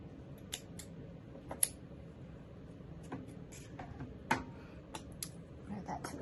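Scissors snipping through material for a handmade craft kit, a series of close, crisp irregular cuts and rustles at a table, with a person speaking in the background.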